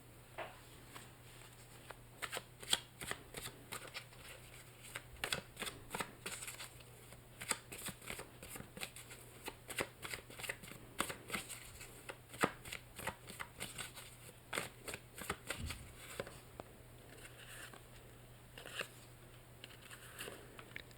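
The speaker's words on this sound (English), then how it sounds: "I will now draw some tarot cards for you to see what else is coming for your month of November." Tarot cards being shuffled and drawn by hand in a quiet room, a long run of soft, rapid riffling and flicking bursts with a few sharper snaps, close and fairly faint, with no talking.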